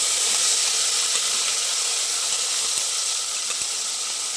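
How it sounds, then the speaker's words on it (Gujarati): Mustard seeds and cumin crackle in hot oil for a Gujarati vegetable dish, producing a steady close sizzle with sharp scattered pops and ticks, and no voices over it. "રાઈ અને જીરું તતડવા લાગે છે"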